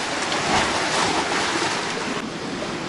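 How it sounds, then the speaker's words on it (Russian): Winter waves on the Black Sea shore during fishing: steady loud surf wash with no pauses, filling the whole clip, no voices. "Из-за волн часто отдает волной."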